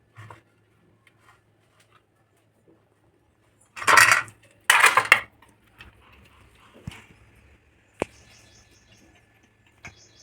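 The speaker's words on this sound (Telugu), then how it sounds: "ఇప్పుడు మనం ఇడ్లీ గిన్నెలకి ఆయిల్ అప్లై చేద్దాం" Steel idli plates clink and clatter as they are handled and oiled, two loud close bursts of metallic rattling followed by a few lighter taps and a sharp single clink, with quiet gaps between.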